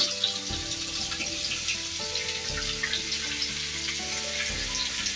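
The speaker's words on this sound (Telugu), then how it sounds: "ఇలా కొద్దిగా ఆయిల్ వేసుకొని అందులోకి టమోటాలు ఉన్నాయి కదా టమోటాలు వేసుకుంటున్నా" Tomatoes frying in a little oil while making beerakaya (ridge gourd) roti pachadi, heard as a loud, steady sizzle with crackles close by, while music plays underneath.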